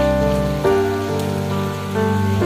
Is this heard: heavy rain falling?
yes